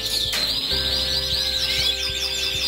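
Caged breeding birds chirp in hot weather, a steady stream of high, thin tweets and rapid calls overlapping continuously with no talking.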